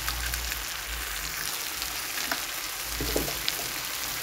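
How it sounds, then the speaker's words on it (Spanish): Tomato, onion and chiles fry in a pan as a steady crackling sizzle with occasional sharper pops, close and even throughout. "Aquí ya tengo todo bien frito, el jitomate, la cebolla y los chiles."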